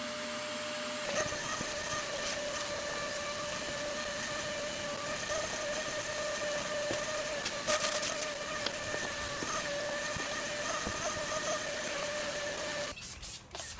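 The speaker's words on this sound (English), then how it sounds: "After vacuuming up all the rat particulates, let's get to cleaning." A vacuum cleaner drones steadily inside a 1972 Camaro being deep cleaned, a constant whining hum with faint knocks and scrapes of the nozzle against the interior before it cuts off near the end.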